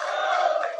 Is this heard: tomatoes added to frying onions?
no